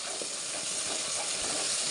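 A spice paste of ginger, garlic and cumin paste with coriander, chili, turmeric and garam masala powders, fried for chicken in a pan, makes a dense, continuous hissing sizzle, close and loud, with faint stirring scrapes.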